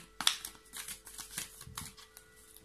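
Tarot cards are cut and shuffled close by in quick, crisp riffling bursts separated by short pauses, with light papery flicks and taps between them.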